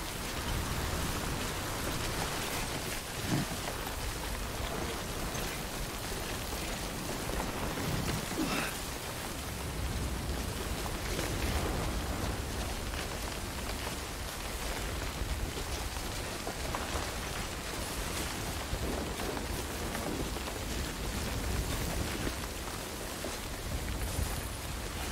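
Steady rain falls in the video game Death Stranding, a dense even hiss of drops on surfaces that runs continuously and fairly quietly, with no voices over it.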